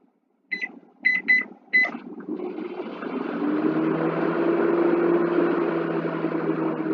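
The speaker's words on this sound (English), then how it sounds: "we turn the microwave on" A microwave oven switched on: a few short electronic beeps from the keypad, then a steady low hum that builds and runs on, near and alone, with no talk.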